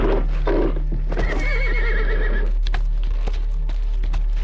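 A horse neighs loudly and close by, a long whinny followed by scattered clip-clop of hooves and snorting, heard alone without talk.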